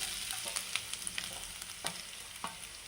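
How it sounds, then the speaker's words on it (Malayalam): Garlic, fenugreek, cumin and coconut fry in hot coconut oil for a Kerala kilimeen fish curry, a quiet, close sizzle dotted with small pops and crackles and the occasional stirring scrape, with no talking. "തേങ്ങ, ഉലുവ എല്ലാം, ജീരകം ഇതെല്ലാം നമ്മൾ ചൂടായ വെളിച്ചെണ്ണയിലേക്ക് ചേർത്ത് കൊടുത്തു"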